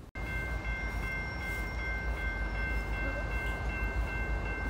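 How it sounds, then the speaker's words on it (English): A very heavy freight train rumbles past in a steady, continuous roar, with faint high tones ringing over the low, even noise. "We got another train coming."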